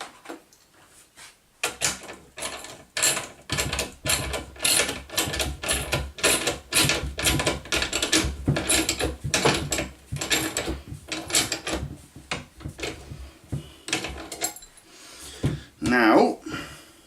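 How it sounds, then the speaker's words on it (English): A big bolt is screwed by hand into a pegboard. Close, rhythmic ratcheting clicks repeat steadily, with a voice speaking briefly near the end. "Start screwing it in."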